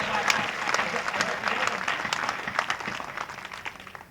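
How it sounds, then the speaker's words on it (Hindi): Loud, sustained applause from the audience at a poetry and comedy recital, dense clapping close by that runs for the full stretch and tapers slightly at the end. "दोनों हाथ पर जोरदार ताली बजाए एक बार।"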